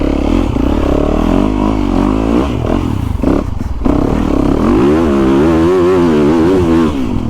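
A Yamaha YZ450FX dirt bike engine, custom built, revs loud and close while being ridden, its pitch wavering up and down with a brief dip midway before climbing again.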